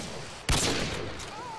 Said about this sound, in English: He's shooting, like, at the ground.